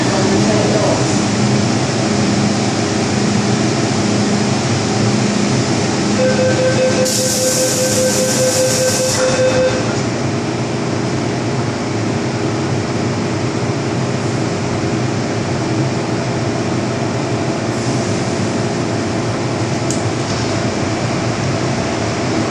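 MTR M-Train running on the Tseung Kwan O line in Hong Kong, a loud steady rumble and rail roar heard from inside the car, with a door chime and announcement voice partway through.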